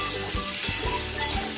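Potatoes and pointed gourd fry together in a pan, giving a steady sizzle with a few stirring scrapes and knocks, under a faint tonal background.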